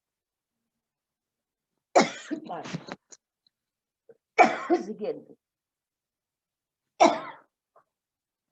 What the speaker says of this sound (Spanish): Perdón que tengo mucha tos.